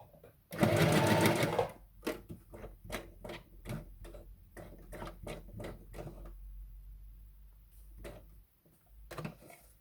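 Sewing machine stitching a craft project in one brief loud burst near the start, followed by a series of quiet, evenly spaced clicks and taps, with a voice talking in the background.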